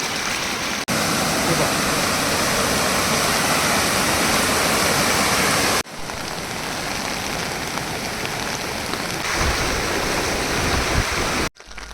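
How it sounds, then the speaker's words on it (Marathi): Loud, steady rush of water close by, a continuous broadband roar from a small stream swollen by rain in Maharashtra, with a brief break near the end. "तेवढ्याशा पावसाने या ओढ्याला पाणी आलेलं आहे"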